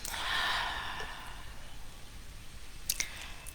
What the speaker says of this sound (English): Hold it in as long as you can, and then slowly exhale